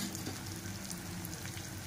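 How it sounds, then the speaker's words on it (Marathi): Water added to stuffed brinjal curry frying with garlic in a pan: a soft, continuous bubbling sizzle, close but quiet, steady throughout with no voices. "आपण ह्याच्यामध्ये पाणी घालूया."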